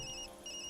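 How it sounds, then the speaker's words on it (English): A phone rings in the video game Tokyo Dark, with two short electronic ringtone bursts split by a brief gap, faint and set over quiet background ambience. "Sorry, Yumi, that's my phone."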